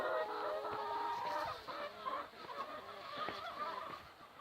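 Hens on a French poultry farm cluck and cackle continuously in a busy, overlapping chorus, fairly close and steady throughout, with no talking.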